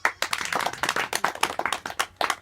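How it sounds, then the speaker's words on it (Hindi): Children in a village classroom clap for a classmate: a short burst of sharp, close, uneven handclaps from a small group, with no talk. "प्रांजल के लिए ताली बजाओ"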